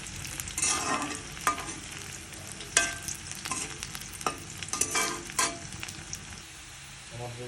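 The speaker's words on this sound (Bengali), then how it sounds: "এখন পেঁয়াজগুলোকে মিডিয়াম মতো ভেজে নেব যতক্ষণ পর্যন্ত কালার চেঞ্জ না হবে।" Onions frying in a pan with chilies at medium heat, a continuous soft sizzle punctuated by sharp spatula scrapes and stirring knocks, close and alone without talk.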